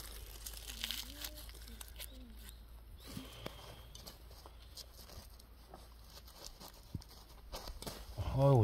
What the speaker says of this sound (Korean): 어우, 양파 크니까 비닐 다 찢어져요.